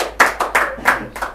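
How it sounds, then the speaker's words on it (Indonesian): A few close hand claps, five distinct slaps at an uneven, quick pace, with light background noise in between. "Tepuk tangan buat Pak Yan dong"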